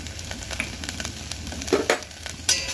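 Ginger, garlic and whole spices, caraway, cloves, cinnamon and cardamom, frying in hot oil, a close crackling sizzle with scattered sharp pops and a couple of louder spits toward the end.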